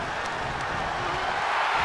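Arena crowd in the WWE 2K22 wrestling video game roars in a steady, loud, continuous wash of cheering with no breaks throughout.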